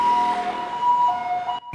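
An ambulance siren wails steadily in a two-tone pattern, close and loud, over faint road noise before cutting off abruptly.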